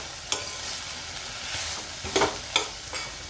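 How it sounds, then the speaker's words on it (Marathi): Chopped onion and tomato sauté in a pan for a dhaba-style dum aloo gravy, a constant soft sizzle broken by a few sharp spatula scrapes and taps as the mixture is stirred. "याचा ना कांद्याचा आणि टोमॅटोचा ना कच्चापणा जाण्यासाठी आपल्याला परतून घ्यायचंय"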